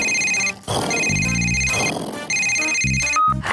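An electronic telephone ringtone plays loud and close in a cartoon scene, a repeating melodic ring in several bursts with short gaps between them.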